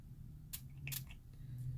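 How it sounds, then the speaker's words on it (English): A handheld spray bottle mists a makeup brush in two quick short bursts, close and crisp, over a faint low background hum. "I'm gonna spray my brush"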